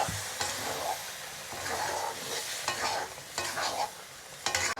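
Mung dal lentils are stirred and fried in a pan with splashes of hot water, brisk scraping strokes repeating over a soft, steady sizzle.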